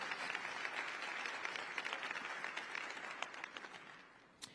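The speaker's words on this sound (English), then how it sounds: "Give her a big round of applause." An audience at a panel discussion gives a round of applause, a dense, moderately distant patter of many hands that holds steady and then slowly fades out.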